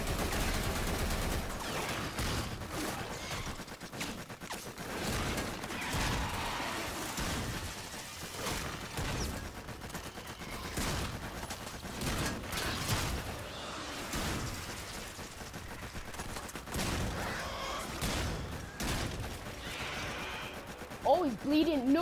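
Gunfire in the video game Warframe, dense and continuous over a busy game mix, with a player talking excitedly throughout.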